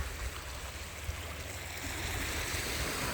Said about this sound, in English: We're down on the beach and it's really nice and hot, no wind